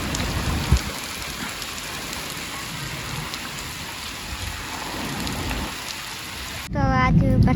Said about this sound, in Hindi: तो आज बारिश बहुत आई है, तो बारिश का व्यू दिखाऊंगी मैं।